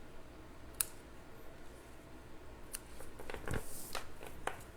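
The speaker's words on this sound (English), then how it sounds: "I'm going to trim the edges just a tiny bit." Ribbon scissors trimming the ribbon ends on a slimline holiday card, a few crisp, quiet snips and small clicks, close and isolated against a soft background.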